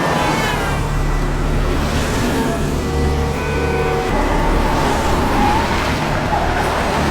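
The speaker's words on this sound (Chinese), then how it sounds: "看着大街上急速驶过的车流" Busy city street traffic from a horror film, cars rushing past steadily and fairly loud, with a low engine rumble and swishing tyre noise throughout and no voices.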